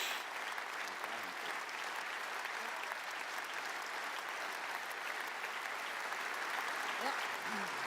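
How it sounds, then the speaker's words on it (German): Sustained audience applause fills a hall at FC Bayern Munich's annual general meeting, a steady dense wash of many hands clapping at even loudness throughout, with no voices standing out. "das ist Ihr Applaus."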